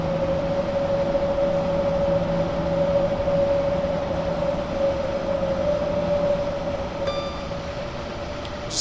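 A steady Class 90 electric locomotive drone in a train simulator game, hauling freight, with a sustained whining tone over rumbling wheel noise, continuous and loud, with brief electronic beeps near the end.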